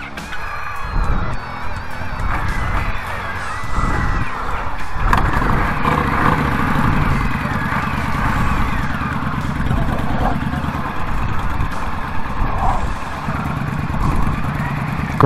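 An Indian Scout Bobber motorcycle engine runs steadily and loud up close, a continuous rumble and clatter from start to finish with no clear start-up.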